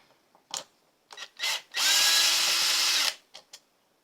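A handheld power drill whirs in a steady burst of just over a second while disassembling a guitar, preceded and followed by brief short trigger pulses, close and clear with no talk.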